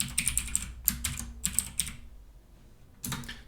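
Typing on a computer keyboard while saving a document: quick bursts of crisp, close key clicks, a pause of about a second, then another short flurry of keystrokes, with no speech.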